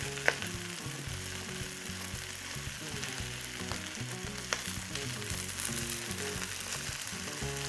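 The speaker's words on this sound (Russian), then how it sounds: "Жарим до прозрачности, чтобы вот эта горечь луковая, она ушла." Onions fry in a pan until translucent, a dense steady sizzle broken by a few sharp clinks of stirring, close up and alone with no talk.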